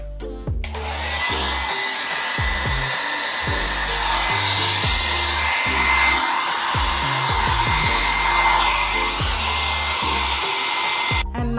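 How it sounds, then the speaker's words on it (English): A hair dryer blows steadily and loudly over a puddle of poured paint during a Dutch pour, a continuous whooshing drone that starts abruptly and runs unbroken for about eleven seconds, with no speech. "And with the hair dryer, now I'll blow over the puddle."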